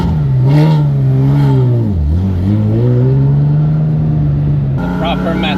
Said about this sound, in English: The proper Metzger engine.